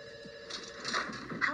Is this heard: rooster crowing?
no